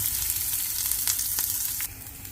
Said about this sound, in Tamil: இது நல்லா கொஞ்சம் வதங்கட்டும்